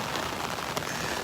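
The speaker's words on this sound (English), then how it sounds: "It's the rain hitting the umbrella" Rain patters steadily on an umbrella during a tropical storm at a Florida beach, a dense, even hiss of drops with one slightly sharper tap partway through, close and unbroken.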